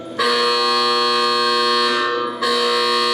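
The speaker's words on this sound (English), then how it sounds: "Now, can you hear that buzzer outside?" A building buzzer sounds loud and steady inside an old county infirmary, a harsh harmonic drone that holds for about two seconds, dips briefly, then resumes just as strong.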